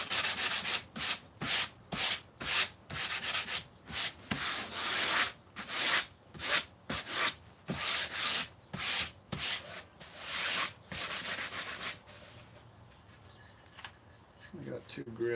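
Sandpaper rubbed over foam to take off the fuzz, loud close back-and-forth scrubbing strokes in a steady rhythm that stop toward the end, leaving quiet room sound.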